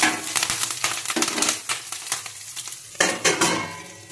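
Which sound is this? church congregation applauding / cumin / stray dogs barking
cumin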